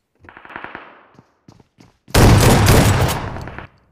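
H12K shotgun fire in the battle royale game BGMI: a scatter of faint clicks and light handling noises, then one loud, close, roaring blast that rings on for over a second before cutting off.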